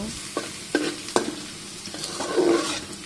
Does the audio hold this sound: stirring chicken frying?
yes